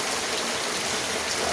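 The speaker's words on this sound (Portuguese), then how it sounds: "Chuva, olha." Heavy rain pours steadily on a house in Maceió, a dense continuous hiss of drops drumming on surfaces, close and loud with no pauses.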